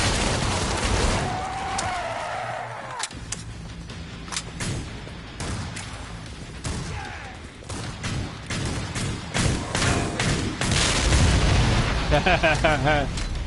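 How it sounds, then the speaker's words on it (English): A burst of in-game explosions as an enemy's explosive backpack is set off in Killing Floor 2, with booms and crackling blasts scattered through a busy combat mix, while someone talks throughout. "So just setting off the enemy's explosive backpack."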